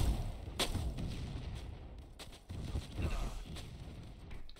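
Gunfire in a first-person shooter video game gives repeated heavy shots and booms that run almost continuously and fairly loud, with short dips between volleys.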